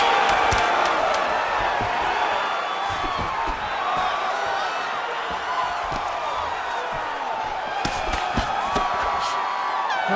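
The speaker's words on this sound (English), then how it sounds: "The crowd is appreciating the high-level ground exchanges that they just experienced." A video game crowd in a UFC arena cheers and roars continuously, with scattered whoops, sharp impact thuds, and voices mixed into the noisy arena ambience.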